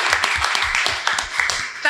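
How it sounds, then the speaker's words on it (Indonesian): An audience at a morning youth seminar on law and politics claps together, a dense steady patter of hand claps lasting a couple of seconds, loud and close, with some voices mixed in. "Kasih tepuk tangan untuk acara kita pagi hari ini."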